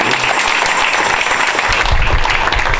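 A church congregation at a consecration service in Brussels bursts into loud, sustained applause, dense clapping filling the whole moment with a low rumble of voices beneath.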